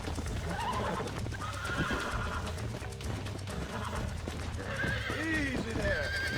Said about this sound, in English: Get on the horse, get on the equine. Attempt to Calm it down. tame the equine.